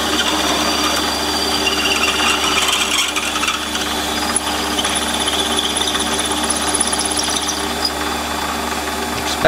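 Metal being cut by hand for a fire piston, kept lubricated with WD-40, a continuous close rasping and grinding with steady rhythm and no talking.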